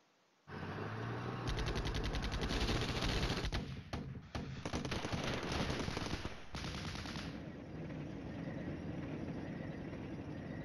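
Artillery fire in the Flashpoint Campaigns: Red Storm video game, including 175 millimeter guns, comes as a loud, dense, rapid rumble of repeated blasts that starts abruptly and stays continuous, easing into a lower roar, with no talk.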